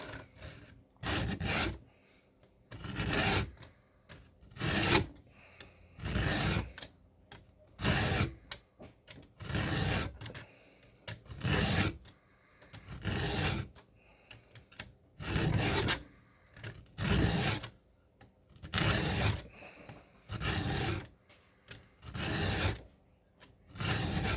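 Chainsaw chain teeth being sharpened with a file, rhythmic rasping strokes repeated steadily about every second or two, close and loud with brief pauses between passes.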